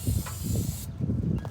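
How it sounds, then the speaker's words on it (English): Short bursts of hissing ether spray from an aerosol can into a Cummins V8 truck engine's intake cut in and out over a low mechanical rumble, close by. "I'm going to spray some ether"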